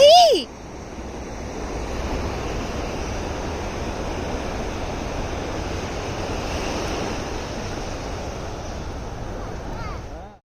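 Ocean surf at Juhu Beach in Mumbai rolls in as a continuous, broad wash of breaking waves, with steady wind noise on the microphone and no clear talk.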